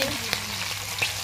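Sesirat fish crisping in hot oil, a steady broadband sizzle with a couple of brief popping spikes, heard close and alone with no talk.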